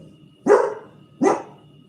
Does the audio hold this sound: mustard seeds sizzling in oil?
no